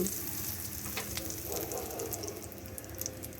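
Asafoetida dropped into hot mustard oil sizzles with a steady, moderate crackle and hiss, with faint clicking pops throughout and no voices.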